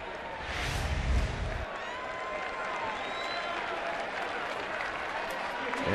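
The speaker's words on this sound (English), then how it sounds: "they're going to give this guy a nice round of applause" A crowd at a San Francisco baseball game gives a player a round of applause, sustained clapping and cheering from the stands that builds and holds steady, with a low rumble early on.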